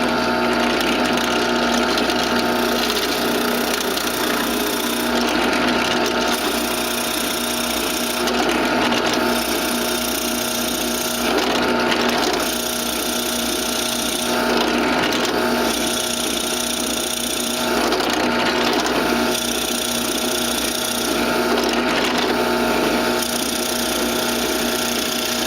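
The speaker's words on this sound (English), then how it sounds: "Drill on, be sure you've got your sacrificial wood under here to help prevent blowout." A power drill whines steadily through wood into a sacrificial backing board, with a high motor drone and brief dips as it bores repeated holes, close and loud.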